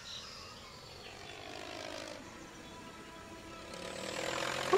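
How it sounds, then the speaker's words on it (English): Propeller airplane passing overhead in an episode of the TV show Lost, a steady broadband engine drone that swells louder toward the end, with no talk over it. "A plane?"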